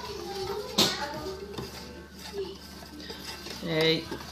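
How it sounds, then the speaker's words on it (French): Hand whisking of carrot cake batter made with egg yolk, orange juice, oil and brown sugar, giving soft intermittent clinks and scrapes of a whisk against a bowl, with a sharper knock near the start, under quiet talk. "On rajoute délicatement au fouet."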